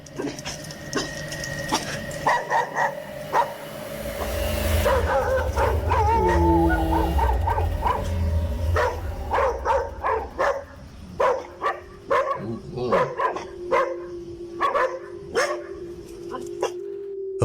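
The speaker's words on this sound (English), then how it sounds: "You know when the dog barking, it's serious." A dog barks repeatedly in sharp, irregular bursts, some with yelping and whimpering tones, over a steady background hum and a rumbling passage in the middle; the barks are fairly close and loud.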